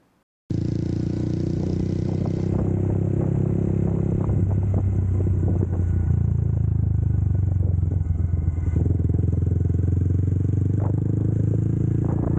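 A 2022-or-later Honda Grom motorcycle with a Kemimoto fender eliminator kit starts off after a brief silence, its small engine droning steadily close by with wind noise and rattling as it rides.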